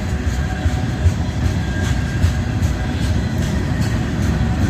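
Freight train with empty gondola cars, Conrail and Santa Fe among them, rolling steadily past at close range, a continuous low rumble with rhythmic clicks of wheels over rail joints.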